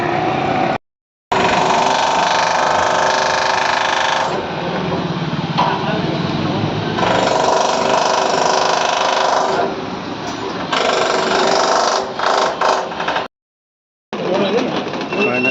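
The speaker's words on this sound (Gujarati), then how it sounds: "મશીનમાં માલ કાઢે છે રહ્યા તો બ્રેકરનો અવાજ બહુ બધો આવે છે" A breaker machine runs at a work site where material jams in the machines, a loud close mechanical clatter and drone that stops briefly twice, with voices at times over it.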